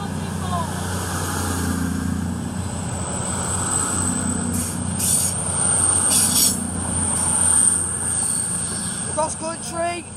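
A CrossCountry train pulls out of Durham station bound for Penzance, with a steady rolling rumble and a thin, high wheel squeal drifting in and out, and voices close by.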